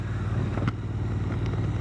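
A motorcycle engine drones loud and close while riding on an autumn road, a steady low rumble with wind noise and a few light rattles, and no speech.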